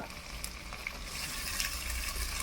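A paste of ginger, garlic, onion and chilli with ground cumin, coriander and whole garam masala fries in a pan for chicken biryani, giving a steady bright sizzle and crackle that swells slightly toward the end, with no voices.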